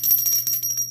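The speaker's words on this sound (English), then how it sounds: "I've been guided to include here my little bell." A small hand bell rings briefly with a bright, sustained high metallic tone over a few soft strikes, close and clear against a quiet low hum.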